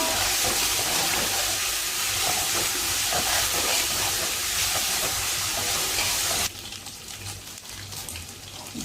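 Onion paste with ginger-garlic paste frying in a pan gives a steady, loud hiss and sizzle that drops to a quieter crackle partway through. No one speaks.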